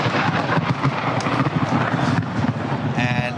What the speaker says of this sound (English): that was the loudest clap of thunder I've ever heard